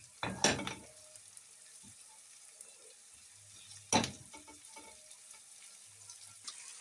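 Carrots tossed into a frying pan for rice, two bursts of sizzling and stirring scrapes separated by quieter stretches with faint clatter.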